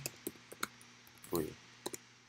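Computer keyboard keys clicked in a few short, irregular taps at close range, with brief murmured sounds partway through.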